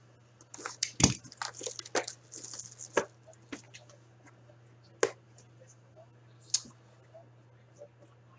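A box of Clear Cut hockey cards is opened at a card break, giving close crinkly tearing, scraping and scattered sharp clicks of packaging over a steady low hum.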